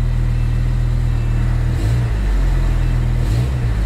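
A BMW M6 convertible engine runs with a loud, close, low rumble, swelling twice in brief revs over a steady idle drone.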